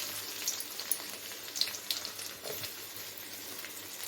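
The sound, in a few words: garlic added to the pan and frying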